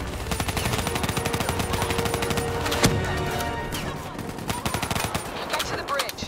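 Sustained automatic cover fire in the shooter Call of Duty Black Ops 3, a loud, continuous rattle of rapid gunshots with brief heavier blasts, barely easing over six seconds.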